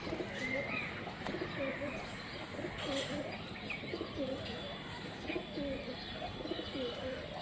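Giribaz pigeons at a home loft coo in a continuous, close, layered chorus, with someone talking over the birds throughout.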